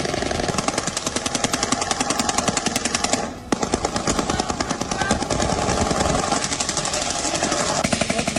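Sustained rapid automatic gunfire in Ukrainian streets, a dense unbroken rattle of shots with a brief pause partway through, loud and close, with no talk.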